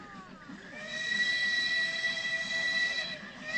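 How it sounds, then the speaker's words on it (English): A train in Nepal passes with a rising and steady rumble, high squealing tones from the wheels sustained over it, fairly close. "This is a train heading south on the day of our visit."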